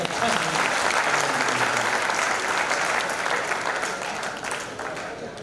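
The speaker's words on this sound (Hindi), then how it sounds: "इस एक बार जोरदार ताली बजाएं।" A crowd at a Hindi poetry recital in Banswara breaks into loud, dense applause, sustained at full strength before slowly tapering off.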